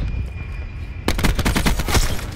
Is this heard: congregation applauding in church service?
no